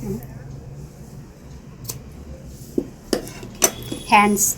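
Scissors cut through blouse fabric in a short run of crisp snips and clicks that grow louder and closer together toward the end, over a quiet room hum.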